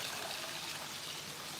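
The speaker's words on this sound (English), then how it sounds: "Pour that strained broth back into here." Strained broth being poured back into a cooking pot, a steady, continuous trickling and splashing of liquid, fairly close and alone with no talking.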